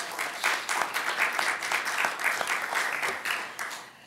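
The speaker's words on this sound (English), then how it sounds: "let's give them a round of applause" An audience at a talk on Fort Western claps steadily and fairly loudly for Lori Mastermaker, a dense patter of hands sustained without a break and no voices over it.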